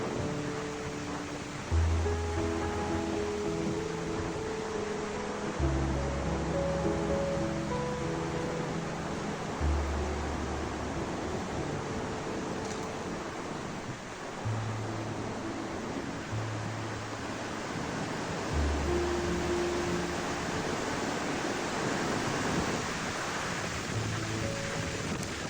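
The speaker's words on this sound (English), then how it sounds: "Bit breezy at Lake Fenton." Breezy wind at Lake Fenton, a steady broad rushing roar with low gusty rumbles, continuous with no voices.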